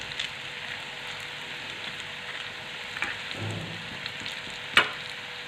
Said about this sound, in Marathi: हे लाल रंगावरती आपण मस्त असे भजे तळून घेऊ